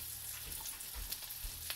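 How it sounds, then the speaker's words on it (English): Jelly ear mushrooms fry in butter in a lidded pan, giving a steady, quiet sizzle with scattered small pops and crackles and no voices. "Frying up some jelly ear mushrooms with Addie."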